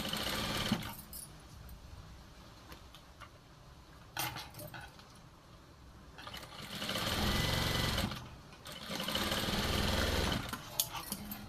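A sewing machine stitches a blouse in two sustained bursts of steady whirring, close and clear, with quieter handling and clinking sounds in the pauses between runs.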